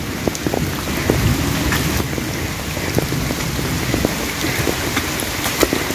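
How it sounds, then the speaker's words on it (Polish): Heavy rain pours down steadily with no wind, dense drops drumming on surfaces close by. "Wiatru nie ma, tylko leje bardzo, bardzo, bardzo mocno."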